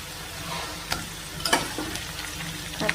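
Brinjal pieces tipped into a pan of sautéed onions, sizzling and frying as they are stirred, with a few sharp clatters of a spoon against the pan over a steady crackle.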